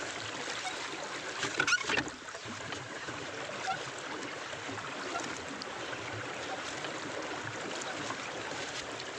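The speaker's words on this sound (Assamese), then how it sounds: "আহক ইয়াত নৌকাত উঠক আৰু এনেকৈ মাৰক পেডেল" A pedal boat is pedalled on a river at a hillside temple site, with continuous paddle churning and splashing water close by and a brief knock of the hull early on.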